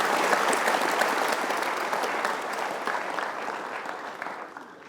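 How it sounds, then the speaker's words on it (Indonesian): A studio audience at a televised talk show claps in a broad, continuous wash of applause that holds steady and then gradually fades out, with no one speaking over it. "kita berikan aplaus untuk Ben"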